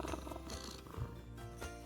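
A cat purrs in the fantasy merchant game Craftcraft, with a low steady rumble through a short passage under soft game music.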